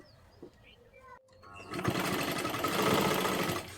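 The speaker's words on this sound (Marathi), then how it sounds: "आता इथे पुढच्या बाजूला सुद्धा एक शिलाई मारून घ्यायची आहे" A sewing machine stitching a sleeve onto a finished kurti top, starting after a few faint handling clicks and then running in a loud, continuous whirring burst for about two seconds.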